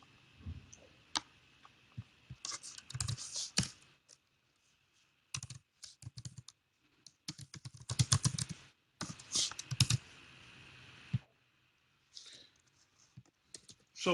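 Typing on a computer keyboard comes in irregular bursts of close, crisp key clicks with short pauses between them, and there is no talking.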